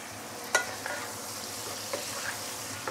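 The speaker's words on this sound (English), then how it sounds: "I want to allow the prawn to have direct contact with the hot wok" Prawns fry in a hot wok with a continuous close sizzle, broken by a few sharp clinks and scrapes of stirring.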